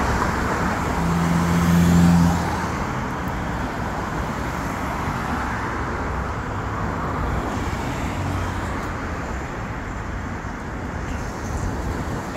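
Traffic passes a pedestrian crossing in the UK, a steady roar of cars and heavier vehicles rolling by at street level, with one brief low tonal hum near the start and continuous road noise throughout.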